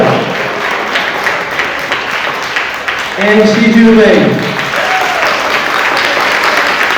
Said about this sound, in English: Big round of applause for all of